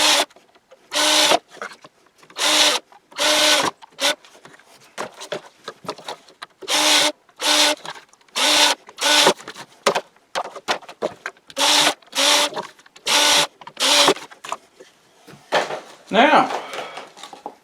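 Holes being made in upper pieces of plastic shed siding, a series of short rasping, scraping bursts in a stop-start rhythm, close and fairly loud, with brief pauses between strokes.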